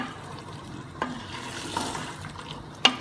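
Boiled red kidney beans fry in masala in a pan, a soft, low sizzle with a few stirring knocks and scrapes, fairly quiet and without speech.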